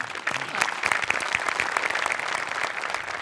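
Audience applause fills a Marathi comedy sketch show stage after a performance: steady, dense clapping from a large crowd, loud and continuous throughout with no gaps.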